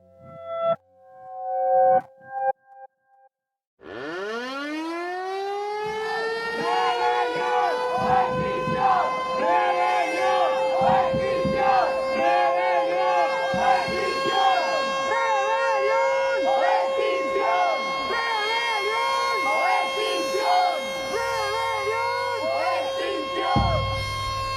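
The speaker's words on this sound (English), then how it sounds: "So close your eyes and imagine you are surrounded by an Extinction Rebellion action" Extinction Rebellion protest action: after a few short tones, a siren swoops upward and holds a loud, wavering wail over a dense crowd roar for some twenty seconds.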